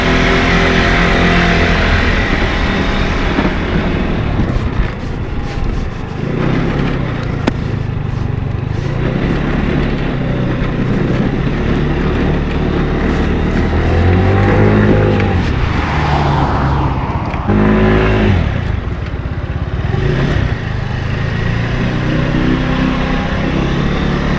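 A 50cc Arora Cappucino scooter engine drones loudly and steadily close by, with rising and falling revs that push against the rev limiter and a brief cut in the middle; wind noise runs throughout and there is no talking.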